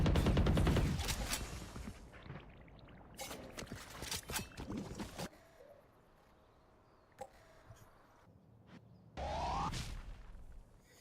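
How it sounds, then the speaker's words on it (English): Shotgun blasts in a competitive first-person shooter match, loud sharp bursts that come in clusters and break off, with quieter game sounds in between. "Shotgun."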